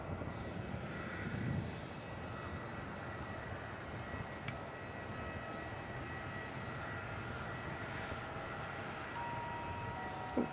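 A Jetstar airliner takes off from runway 27 at Melbourne Airport, its engines giving a steady, fairly distant roar that holds throughout.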